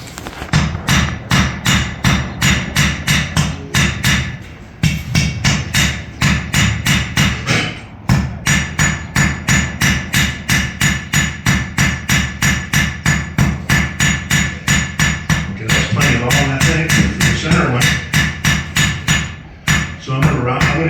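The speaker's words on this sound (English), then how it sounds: "So I'm gonna hit all the high, sharp edges, all 4, full length, just make them a little softer." A blacksmith hammers hot forge-heated steel stock for a Dutch oven lid lifter, a long steady run of loud ringing blows at close range with a few short breaks.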